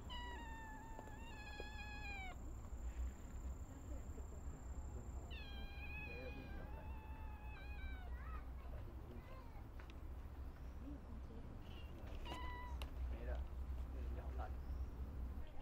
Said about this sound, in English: There's cats everywhere.